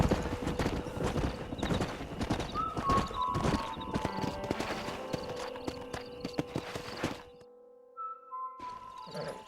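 Horses in a Western-style video game, with hooves clip-clopping and galloping in quick irregular beats alongside a whinny, thuds and music, loud and close until a short near-silent gap near the end.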